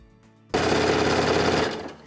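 A sewing machine stitches a seam in a tote bag lining, a fast rapid-fire mechanical chatter that starts abruptly after a quiet moment and runs steadily, close and loud, before easing off at the end.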